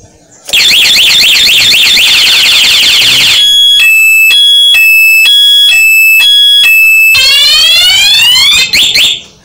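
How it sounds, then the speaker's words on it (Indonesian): A loud electronic motorcycle security alarm siren on a 2014 Honda BeAT cycles through patterns: rapid warbling sweeps, then pulsed beeping tones, then rising whoops, blaring close by. "Jadi di alarmnya bunyi, sirinenya, dan juga di starter tidak mau jalan"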